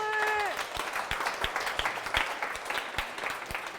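An audience claps steadily during a waltz dance lecture, with a short sung or sustained tonal note at the very start. Sharp louder claps and thumps stand out now and then against the dense crowd patter.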